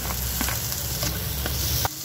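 Garlic, onion and tomato sauté in a hot pan, a brief, loud and even sizzle with a few stirring scrapes, close up and with no talking, cutting off sharply at the end.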